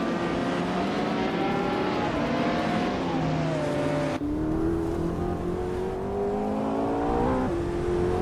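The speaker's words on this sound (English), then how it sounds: "Nestek is driving a Porsche 911 GT2." A Porsche 911 GT2 race car's engine revs hard in a racing game on the tight Tsukuba circuit, a loud, close, continuous howl that climbs and drops through gear changes, with a sharp shift partway through and no talking.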